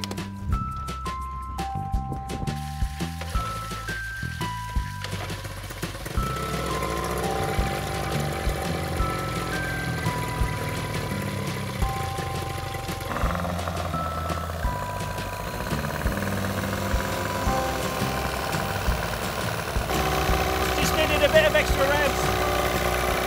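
A Johnson Evinrude outboard motor runs on flushing earmuffs with water forced through to the impeller, a steady engine drone with mechanical tones, continuous and close, while a voice talks over it.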